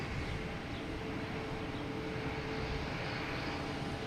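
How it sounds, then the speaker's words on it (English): An airliner, a Delta A220, coming in to land on runway 22 left at Boston Logan Airport, heard as a steady, fairly faint engine roar and rumble with no break. "we also have Delta coming in, an A220 coming in from Austin, Texas"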